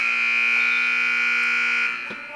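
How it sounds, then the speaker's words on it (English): Buzzer ending a period in a high-school varsity wrestling match, loud and steady electronic tone held for about two seconds in an indoor gym, then cutting off into faint crowd noise. "the buzzer will bring everyone back to center mat for the second bout"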